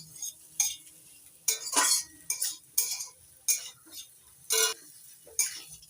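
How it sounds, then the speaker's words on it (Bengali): A spoon scrapes and clinks against a pan while spice paste is stirred into potatoes and cauliflower, in about eight separate bursts spaced by quiet pauses. "আলু ফুলকপির মধ্যে গুলে রাখা মশলা দেওয়ার পর 4 মিনিট কষিয়ে নিচ্ছি।"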